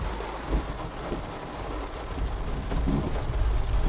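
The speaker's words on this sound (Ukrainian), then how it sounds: "І тут сипнув нас дощик." Steady rain falls outdoors, a broad wash of patter with a low rumble underneath, no voices.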